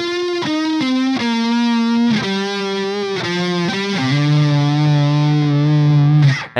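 A high-gain electric guitar played through maxed chorus or vibrato modulation plays a loud, sustained, distorted melodic line with wobbling pitch, ending on a long held note.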